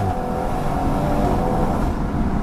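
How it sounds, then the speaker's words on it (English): A tuned BMW M140i with an 8-speed ZF gearbox accelerates hard. Its intake gives a loud, steady, throaty roar from close by, continuous and unbroken, with no voices. "Oh, hear that intake?"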